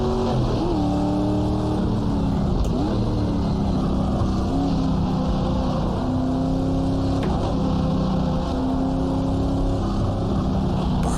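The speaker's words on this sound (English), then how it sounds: "Love the sound of this car." A 1960s Alfa Romeo race car engine at Sebring in the GTR2 racing game, revving loud and continuous with rising and falling harmonic sweeps through gear changes, alone without talk.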